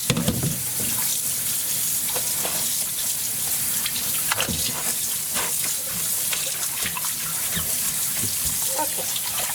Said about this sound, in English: You don't want to rinse all of your dye out.